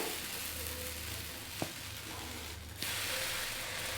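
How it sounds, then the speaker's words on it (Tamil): Onion dosa batter on a hot griddle gives a faint, steady sizzle and hiss, broken by a couple of sharp metallic clicks. "அடுத்து நம்ம ஆனியன் தோசை ஊற்றிக்கலாம்"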